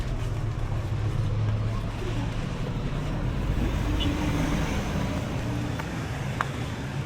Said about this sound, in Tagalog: Sa tricycle. Ayun, tricycle.